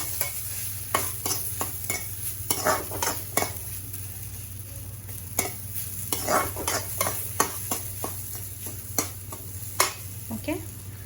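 Milk is added to apple semolina sheera cooking in a pan, with a steady soft sizzle under repeated scraping and clinking stirring strokes throughout.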